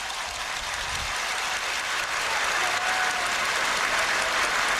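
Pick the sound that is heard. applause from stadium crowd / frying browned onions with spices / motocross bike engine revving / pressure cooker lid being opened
applause from stadium crowd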